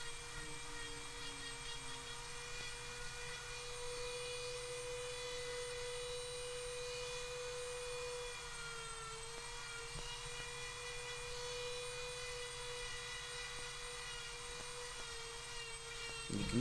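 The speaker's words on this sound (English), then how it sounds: "the drum sanding wheel to kind of smooth out any of those rough edges again" A steady, high-pitched electric whine of a rotary drum sanding wheel smoothing birch wood runs continuously, fairly quiet, with a faint grinding buzz beneath.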